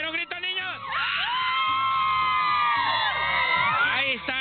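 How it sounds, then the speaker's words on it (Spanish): A crowd of children in the Las Torres neighbourhood shrieks and cheers together in long, rising and falling screams, loud and close, with short breaks between outbursts. "Vamos a ver un grito, niños."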